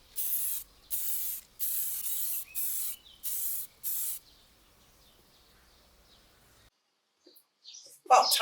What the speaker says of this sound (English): So I'm going to mask off the steps and spray the rest with white.